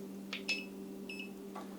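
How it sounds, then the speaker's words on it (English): A laser tape measure gives short, faint electronic beeps: a couple of quick chirps, a brief double tone and a soft blip, set against a steady low electrical hum. "So we got the beep, right?"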